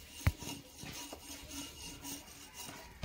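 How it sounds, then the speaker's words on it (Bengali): Taro stolons (kochur loti) are gently rubbed to strip off their skin, making faint, close scraping and rubbing strokes with a few soft knocks, repeated in a loose rhythm. "এইভাবে আলতো আলতো করে ঘষে দিলে এর খোসাটা উঠে যায়।"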